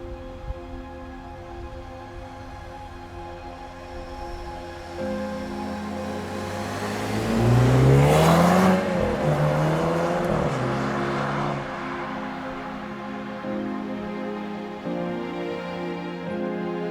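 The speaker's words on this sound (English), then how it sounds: "so we're driving the Alfa Romeo Giulia." Alfa Romeo Giulia sedan accelerating on the road, its engine note rising to a loud peak midway and then easing back to a steady cruising drone, heard from inside the car.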